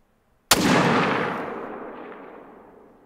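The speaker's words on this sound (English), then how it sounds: "Did you hear my gun go boom?" A single rifle shot in The Hunter: Call of the Wild cracks sharply and loudly, then its echo rolls away slowly across open hunting terrain over a couple of seconds.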